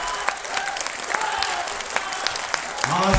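An audience at a poetry recital claps loudly and continuously, dense overlapping claps with a speaking voice rising over them near the end.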